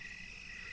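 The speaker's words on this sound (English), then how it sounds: "crickets." Crickets chirp in a steady, continuous high trill, fairly loud and even throughout, with no other sounds or voices.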